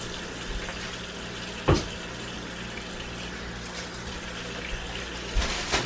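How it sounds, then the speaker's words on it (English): Beer poured out for a drunken pork loin, a steady liquid rush running throughout at moderate loudness, with a couple of brief clunks of the can or glass near the start and end. "Mama Jones finna pour this beer."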